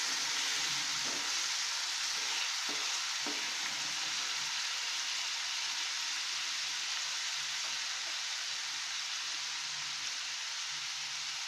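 Onions sizzling in oil in a pan for aloo chole curry, a steady soft crackling fry with a few faint stirring knocks early on, no voices.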